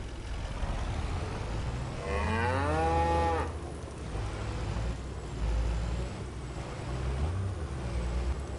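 Cattle in Farming Simulator 25, set on a Scotland map, give one long drawn-out moo in the middle, clear above a constant low rumble of machinery and ambient game sound.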